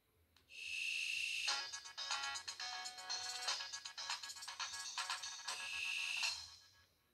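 A Samsung mobile phone startup jingle plays alone, bright and electronic, with a sustained tone opening into a rapid sequence of chiming notes before fading out.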